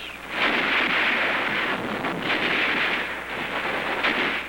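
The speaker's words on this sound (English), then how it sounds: "Our rifle fire is deadly. So are the flamethrowers and the mortars." A World War II battle at Iwo Jima thunders in a dense, continuous roar of rifle fire and mortar blasts, loud and rumbling with no quiet gaps, like a wartime film soundtrack.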